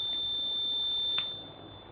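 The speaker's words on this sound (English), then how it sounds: "one buzzer will get on like this" A steady high-pitched electronic buzzer tone from a gas leak alarm sounds continuously, loud and close, cutting off abruptly near the end.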